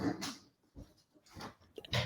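A dog close by making short breathy huffs and snuffling sounds in a home, several separate bursts spaced irregularly over two seconds, fairly quiet.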